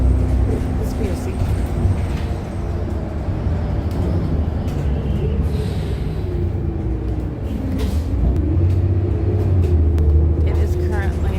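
Inside a moving city bus at night, a steady low engine rumble and road noise run throughout, with occasional rattles and clunks; voices murmur faintly in the background.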